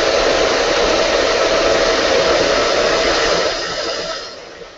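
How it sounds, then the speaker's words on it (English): A hair dryer blows loudly and steadily at close range, a constant rushing whoosh that drops in level near the end. "I'm gonna hit that with a hairdryer really fast."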